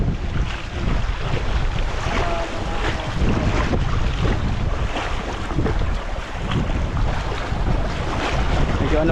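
Steady gusty wind buffets the microphone on an open boat at sea, with waves and water rushing continuously around the hull; a loud, unbroken roar with no talk.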